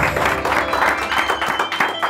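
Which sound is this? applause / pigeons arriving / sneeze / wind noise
applause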